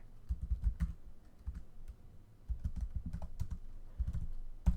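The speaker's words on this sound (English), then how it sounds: "I'll type what I want to be here." Someone types on a computer keyboard with quiet, irregular bursts of key clicks, short runs of taps separated by brief pauses, heard close and alone.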